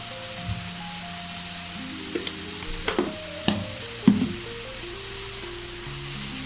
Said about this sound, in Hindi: तो चलिए थोड़ी देर और भून लेते हैं